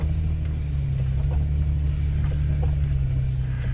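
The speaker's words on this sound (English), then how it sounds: "Okay, I did have to stick it in four-wheel drive." A 4x4 in four-wheel drive crawls over the Oregon Dunes sand while pulling a teardrop trailer, its engine a steady, close, heavy low rumble that drones on without pause, with no talking.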